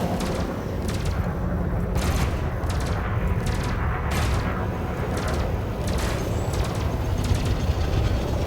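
Fixed weapons fire in the space combat game Elite: Dangerous in repeated rapid bursts, loud and continuous over a dense droning engine rumble.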